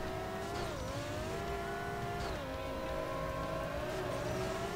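Racing car engines in a PS2 street-racing game set in Tokyo drone and whine steadily, pitch sliding up and down as cars accelerate and shift, with a dense, fairly quiet game mix throughout.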